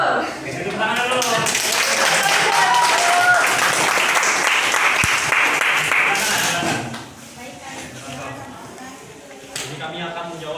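A classroom of students claps together in a loud, dense burst of applause that holds steady for several seconds, then fades into scattered claps and chatter.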